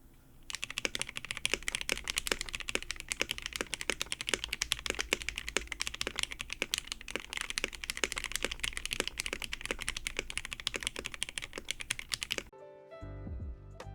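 Fast, even typing on a Womier K87 tenkeyless mechanical keyboard fitted with Gateron Ink Black linear switches, with crisp, rather high-pitched keystrokes clicking in a steady rhythm close to the microphone, then stopping abruptly near the end.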